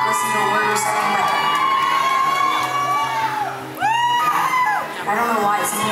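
A concert crowd at The NorVa in Norfolk, Virginia talks, shouts and cheers loudly and continuously, with whoops rising over a dense wash of chatter.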